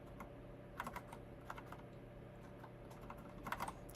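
Typing on a computer keyboard while coding: quiet, irregular clusters of light key clicks over a steady low hum, with no voices.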